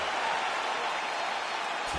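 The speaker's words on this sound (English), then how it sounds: "So the crowd voicing its appreciation after that round." An arena crowd in the video game UFC 4 cheers and applauds after a round ends, a steady, broad wash of cheering at moderate loudness heard on its own.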